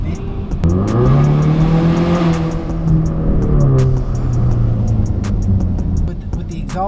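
A tuned Ford Mustang EcoBoost with aftermarket exhaust and blow-off valve adapter accelerates hard, its engine note climbing through gears in loud, close sweeps with sharp pops and crackles scattered over it.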